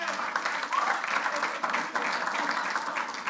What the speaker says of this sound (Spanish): Y denle un aplauso al Rey.